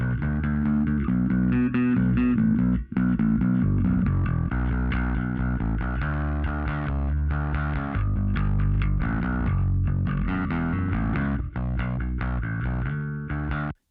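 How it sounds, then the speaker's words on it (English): Bass guitar notes are played with a heavy boost in the muddy low-mid range around 280 Hz, producing a thick, boomy, slightly distorted tone in a steady run of notes for about fourteen seconds, with nobody speaking. "For me, the bass sounded bad from around 280 Hz."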